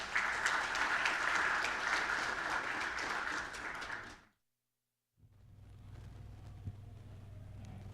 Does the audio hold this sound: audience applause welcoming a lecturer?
yes